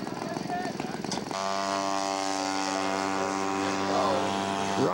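A radio-controlled scale model Piper Tomahawk on a flyby at a scale aircraft show, its engine droning in a loud sustained buzz with a steady pitch that shifts slightly as it passes, after a stretch of announcer talk over crowd noise.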